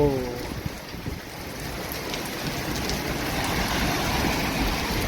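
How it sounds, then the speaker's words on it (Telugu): Rain falls with wind on an evening in Riyadh, a steady hiss of drops close by that holds at an even, moderate level, with faint background rumble and a brief tonal sound at the very start. "ఈరోజైతే రియాద్లో ఉరుములు, మెరుపులు, గాలి, వాన."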